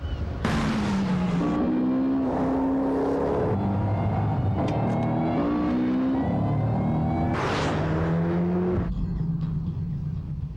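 A car engine revving and accelerating, with repeated rising and falling engine pitch through several loud surges and gear changes, close and continuous with no talk.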